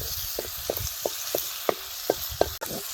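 Turmeric powder sizzles in hot oil while being stirred, cooking for a rustic village-style drumstick (shevga) vegetable curry; steady frying hiss with a series of soft, evenly spaced stirring scrapes, close and moderately loud, no talking.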